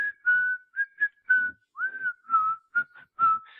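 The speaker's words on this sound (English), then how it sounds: "that little whistling tune" A lone whistled tune, a film melody, comes in a string of short clear phrases with small gaps between notes, close and unaccompanied.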